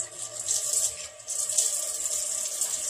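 Water trickles from a tap as a small splash is added to beaten scrambled eggs before cooking in a home kitchen, a steady gentle hiss with a brief pause partway through, no voices.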